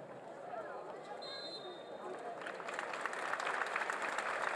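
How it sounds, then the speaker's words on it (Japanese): Spectators in the stands applaud the players after a high school boys' football final in Hiroshima. Steady applause swells louder toward the end under an announcer's voice. "応援席、観客席から大きな拍手が送られています。"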